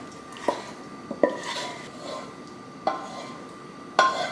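Spoon scraping and clinking against a bowl while tapioca pearls and mini sago are mixed into coconut pudding with sweetened condensed milk, a few sharp knocks spaced through soft stirring.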